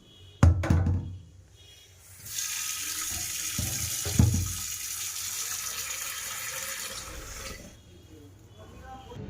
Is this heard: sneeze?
no